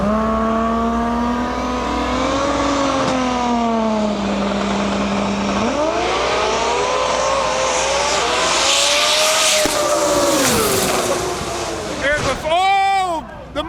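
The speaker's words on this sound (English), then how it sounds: "Eric LaFerriere driving white rice, which is a 95 Nissan 240 SX with a Toyota 2JZ single turbo setup under the hood." A 1995 Nissan 240SX drag car with a single-turbo Toyota 2JZ roars through a qualifying run, its engine tone climbing and holding under announcer commentary, with sharp rising chirps near the end.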